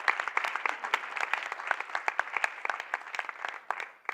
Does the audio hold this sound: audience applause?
yes